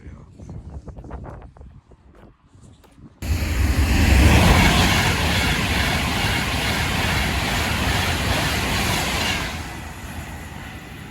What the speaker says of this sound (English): Passing through now is yet another Avanti West Coast Pendolino service to London Euston.